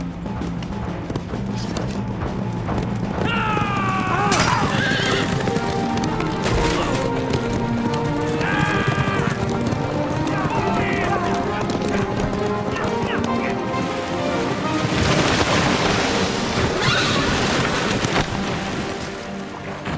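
Hooves pound in a rapid gallop while horses whinny several times near a river, with shouting voices and heavy rushing noise around them, in a Joan of Arc film.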